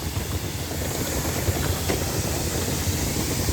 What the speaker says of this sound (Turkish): Şimdi Taşkent tren istasyonundan çıkıyoruz.